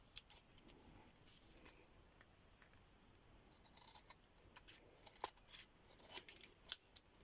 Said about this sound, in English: So I'm just going to cut down that with my scissors to make it